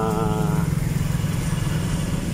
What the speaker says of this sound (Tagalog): Mga motor na yung mga dumadaan